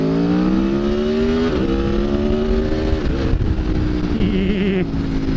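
A motorcycle, a Honda CBR 600RR, races around Donington Park circuit, its engine loud and close, pitch rising steadily through each gear then dropping at shifts, with a sustained high-revving drone throughout.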